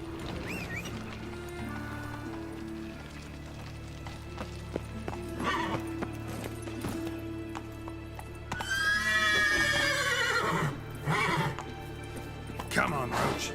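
In The Witcher 3: Wild Hunt, the horse Roach gallops with rhythmic clip-clopping hoofbeats and lets out a loud neigh midway, with someone talking over the game audio.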